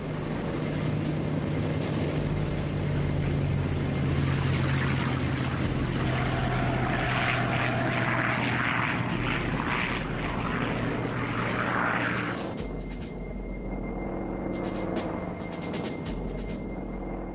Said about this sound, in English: the first wave of Japanese aircraft took off